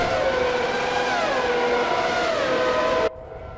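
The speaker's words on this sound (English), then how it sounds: "Listen to that old V12." A 1990 Ferrari V12 Formula One car in a racing video game at Baku, loud and close with a sustained high-pitched wail that rises and falls through gear changes before cutting off abruptly.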